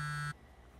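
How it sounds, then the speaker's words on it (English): A phone gives a short, steady electronic ring tone for an incoming call in a quiet room, then cuts off abruptly. "Getting a phone call."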